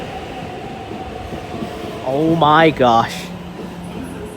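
MTR train pulling into Kowloon Tong Station in Hong Kong, with a steady rumbling hum and then a loud rising-and-falling electric whine of the motors partway through, as a person briefly speaks nearby.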